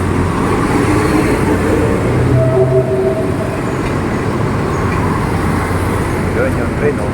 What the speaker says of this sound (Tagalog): Doon yung train, oh.